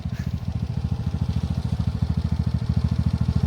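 A motorbike on a rough, patchy state highway: a steady, rapid engine putter with even pulsing beats, moderately loud and continuous, with no voices over it.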